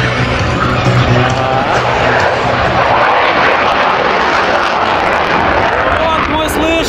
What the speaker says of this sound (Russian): Вот мы слышим рев движков.